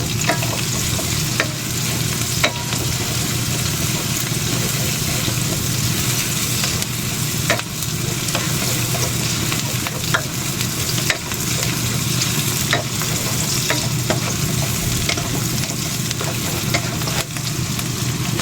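Chili peppers fry in a pan for an egg tofu and eggplant sisig, a loud, continuous crackling sizzle with intermittent stirring scrapes, close and unbroken throughout.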